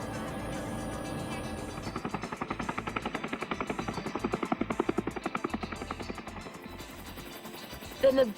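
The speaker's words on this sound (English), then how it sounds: "although I've been in a chopper before, the sensation of hovering and peeling off sideways never gets old" Helicopter hovering and banking during a heli-skiing trip in the Canadian mountains near Panorama Village, a steady rhythmic rotor chop building in pulses under a muffled cabin drone, with brief voices near the end.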